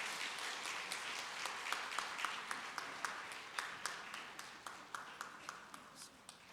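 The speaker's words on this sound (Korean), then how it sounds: "박수 부탁합니다." Church congregation applauding after a pastor presents a certificate of merit, a steady patter of many hands with distinct claps standing out, moderately distant and sustained throughout.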